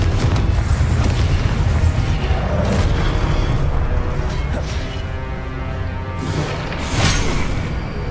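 A fire explosion spell from the Hogwarts Legacy video game erupts in loud, heavy booms with whooshing bursts over about eight seconds, with a sharper blast near the end.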